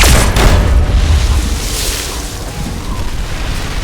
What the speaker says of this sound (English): Looks like an explosion should do.